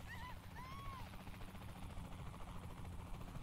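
A helicopter in Saints Row The Third gives a steady whirring, rumbling drone throughout, faint and even, with a brief tonal blip near the start.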